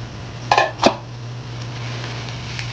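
Bitter gourd (ampalaya) tipped into a simmering pot of mixed vegetables for ginataang gulay gives two quick, close clattering knocks, then only a steady low hum remains, with no talk.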